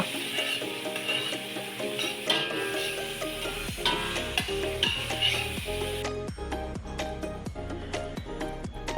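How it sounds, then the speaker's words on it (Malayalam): Chopped garlic and onion fry in a pan for a homemade fish curry and are stirred with a spoon. A soft sizzle sits under repeated scraping clicks, with a tonal musical bed running throughout. "വെളുത്തുള്ളിയും വലിയുള്ളിയും നല്ലതുപോലെ ഒന്ന് ഇളക്കിയെടുക്കുക"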